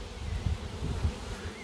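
Honey bees hum around a hive as a box is added to a colony that has swarmed, a close, steady low drone with slight pulsing swells and no talking.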